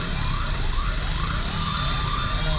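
Fire truck sirens wail continuously from several trucks, rising and falling in overlapping sweeps, loud and steady over a low rumble of traffic.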